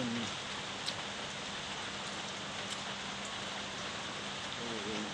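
Steady afternoon rain hisses continuously, close and fairly loud, with scattered drops and faint splashes, and a voice briefly audible underneath.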